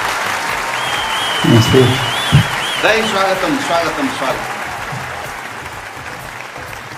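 An audience at a Gai Jatra 2020 comedy show in Nepal applauds to welcome comedians on stage, a steady wash of clapping under a greeting voice that fades gradually.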